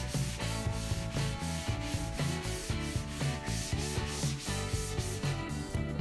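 Painted wood dresser surface being sanded by hand, a continuous rhythmic rubbing and scratching with repeated back-and-forth strokes, close and steady.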